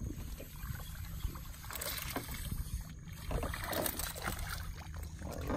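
A popping cork fishing float splashes and sloshes on water over flats close by, with small pops and trickles against steady outdoor wind and boat noise, no talking.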